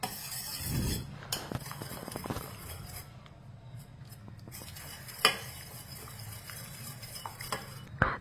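Soft-cooked dal is mashed and whisked in a pot, giving close scraping, rubbing and occasional clinks of a utensil against metal, irregular and fairly quiet, without talk.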